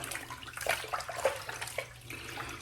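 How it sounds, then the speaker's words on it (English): A boar bristle shaving brush is set back into its soaking water, giving faint, close sloshes and small splashes in a few quick bursts. "I'm going to set that back in the water, let it soak, set the brush down"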